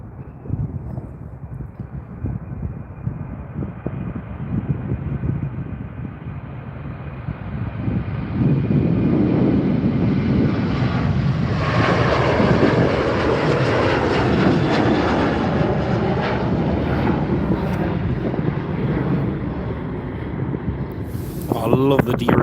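A WestJet Boeing 737-700 takes off from Calgary's runway 35R, its jet engines swelling from a distant whine into a loud, sustained roar that builds from about the eighth second and stays strong to the end.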